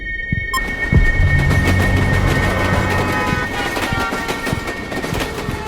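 A train rumbles and rattles in the background of a played-back recording, a continuous rolling clatter with rhythmic thumps after a brief click at the start, steady and fairly loud throughout.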